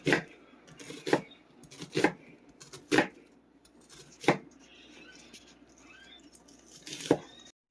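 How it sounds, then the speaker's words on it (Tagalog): A knife chops through a white onion on a cutting board, sharp knocks of the blade landing one at a time at an uneven pace, close and clear against a quiet kitchen. "You have to cut your onion in thin size"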